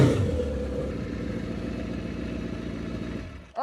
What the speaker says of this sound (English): before I do my oil change, I like to fire my bike up for a little bit